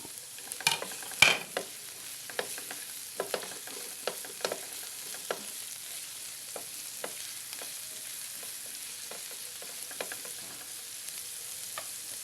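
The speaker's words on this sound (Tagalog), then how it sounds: "Basta talaga ginisa ang bawang, bango." Garlic sautéing in a pan for beefsteak, giving a soft, continuous sizzle close by, dotted with frequent light clicks and scrapes of a utensil stirring, with no talking.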